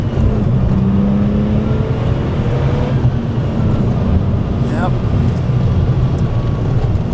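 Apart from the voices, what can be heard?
sports car engine accelerating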